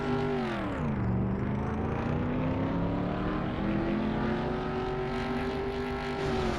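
Several race car engines roar together in the 1996 NASCAR Racing 2 video game, a loud sustained drone whose pitch dips sharply, then climbs steadily as the cars accelerate.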